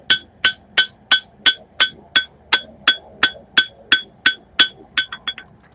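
A hammer strikes a steel sword blade in steady ringing blows, about a dozen evenly spaced metallic clangs, loud and close, ending with a few quicker, lighter taps.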